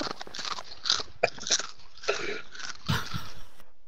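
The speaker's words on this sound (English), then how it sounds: "I'm gonna crunch on one of these big old chips real quick." Big chips being bitten and chewed close to the mic, a run of sharp, loud crunches in an irregular rhythm with no talk over them.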